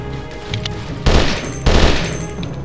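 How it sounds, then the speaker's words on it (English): Gunfire rattles at the player in the game Conflict Desert Storm, with two heavy, loud bursts of automatic shooting close by, each a dense volley following a quieter stretch. "Who the hell is shooting us?"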